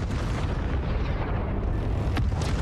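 A mothership shooting down drones in the space strategy game Homeworld 3, producing a continuous low rumbling barrage of booms and explosions, with one sharper burst near the end and no talk.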